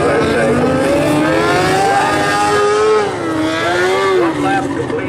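Race cars in an A-class heat rev and accelerate together at a restart, their loud engine notes rising and falling and overlapping close by, with no talk over them.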